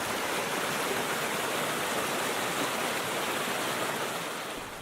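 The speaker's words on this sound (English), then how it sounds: "look at all that water coming out of there" Water gushes out of an opening in a steady, loud, continuous rush with a broad hissing roar, holding constant before easing slightly at the end, with no voices.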